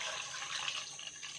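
Water pours into a pressure cooker holding washed tapioca, making a quiet, brief splashing rush.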